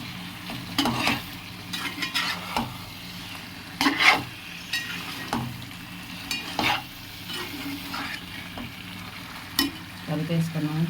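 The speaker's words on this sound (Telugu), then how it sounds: "ఇప్పుడు కొంచెం అటు ఇటు కలుపుకున్నాను ఈ చేపలు." Fish pieces are tossed and stirred in a pan of fish curry (chepala pulusu). Repeated close scraping and clinking strokes come at an irregular rhythm over a steady frying sizzle, loud and near.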